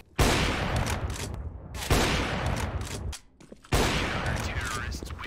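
Sustained automatic fire from a Flatline rifle in the video game Apex Legends, with loud, dense bursts repeating in quick succession and brief pauses between volleys.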